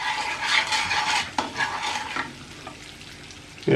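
Sugar stirred into melted butter in a frying pan, a soft sizzle with scraping strokes of a utensil against the pan and a clink near the end, close and without talk.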